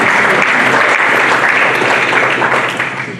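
Audience at the Allegheny Athletics Hall of Fame ceremony applauds Coach Norm Sundstrom, a dense, loud, sustained wash of clapping that holds steady throughout and eases slightly near the end.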